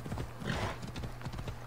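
Horse hooves in Assassin's Creed Odyssey clip-clop in a steady trotting rhythm, with a faint snort or whinny in the middle, fairly soft and close.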